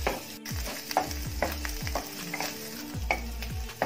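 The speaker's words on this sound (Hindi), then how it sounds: "अंडा फ्राई हो गया है" Beaten egg fries on low flame in a pan, soft continuous sizzling under a rhythmic series of scraping strokes as it is stirred and mixed, fairly close and moderately quiet.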